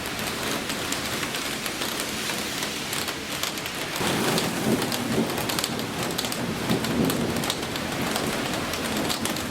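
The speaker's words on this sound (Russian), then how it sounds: "В Бишкеке гроза и ливень." Heavy rain pours down during a thunderstorm on a city street in Bishkek, a loud, constant hiss of downpour on surfaces with a low rumble swelling through the middle.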